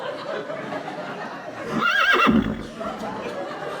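A horse whinnies briefly in the middle, rising and falling, over a background of murmuring voices and room noise.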